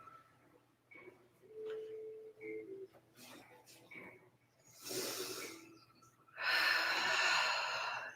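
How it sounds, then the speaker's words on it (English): Slow, deep belly breathing during a vinyasa yoga session, soft airy inhales and fuller exhales close to the microphone, alongside a quiet speaking voice. "Taking a couple breaths here."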